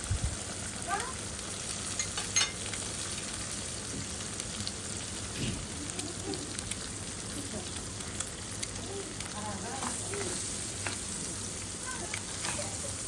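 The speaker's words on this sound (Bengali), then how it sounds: "আমি একই পাতিলে ডিমটা ভাজি করে নেব।" A single egg fries in the same pot used for mixed chow mein. It gives a steady, crackling sizzle with occasional louder pops that carries on throughout.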